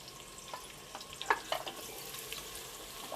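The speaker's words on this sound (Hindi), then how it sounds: "अनियन को लाइट गोल्डन हो जाने तक फ्राई करेंगे" Onions frying in oil in a pan, a soft low sizzle with a few sharper crackles and stirring clicks, quiet and close, no voices.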